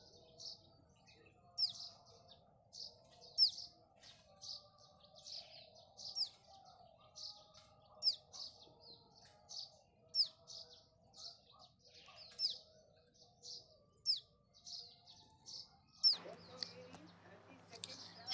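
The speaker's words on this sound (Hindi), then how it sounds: "आज सुबह सुबह मैंने इस चिड़िया के बच्चे को छोड़ दिया है।" A young sparrow-sized baby bird chirps in short, high, repeated tweets at a steady rhythm over a quiet background, with a low murmur of other sound joining near the end.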